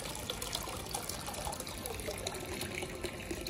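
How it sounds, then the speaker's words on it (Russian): Warm water flows steadily into a Bestway above-ground pool, a continuous close trickling and splashing with no talk over it. "А здесь вообще, блин, теплая вода идет."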